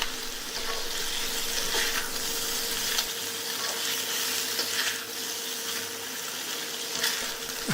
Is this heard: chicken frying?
yes